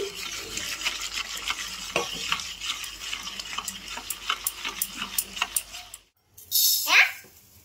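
Jalebi batter with food colouring and a packet of Eno is whisked briskly in a bowl, quick rhythmic close strokes that stop for a moment before a short watery splash.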